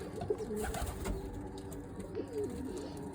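Pigeons coo softly in a loft, low rolling calls repeating a few times close by, with faint rustling in the background and no voices.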